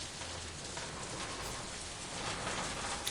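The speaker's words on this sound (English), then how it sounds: "It's raining. It sounds nice." Rain in the video game You are a Failed Murderer, a dense, even patter of rainfall hissing steadily throughout without a break.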